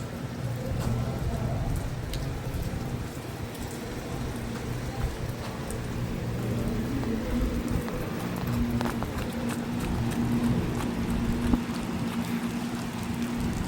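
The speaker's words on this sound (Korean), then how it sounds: "비가 지금 많이 내리고 있죠." Heavy summer rain falling at a garlic auction market in July, a dense, even hiss with a low rumble underneath that holds steady throughout, with no voices.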